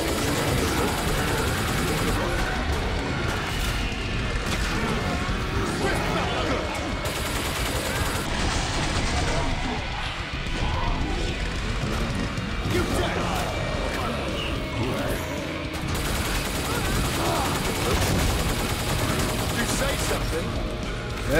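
Rapid gunfire rattles in bursts throughout a Killing Floor 2 firefight, dense and continuous, with a voice talking over the shooting.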